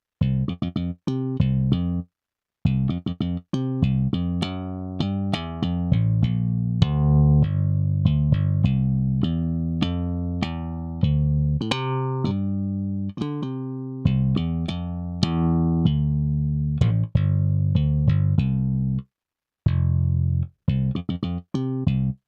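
A plain, unprocessed bass guitar plays a steady line of plucked notes, close and dry with no added effects, with a few short gaps.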